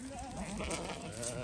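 Several sheep bleat at once in a farmyard flock gathering for salt, overlapping wavering calls close by, continuous and fairly loud throughout with a busy background.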